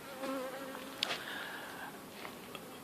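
A faint, steady buzzing of wild mountain-strain honeybees drifting around bait hives by a cabin, quiet and outdoors, with a couple of brief ticks and no one speaking.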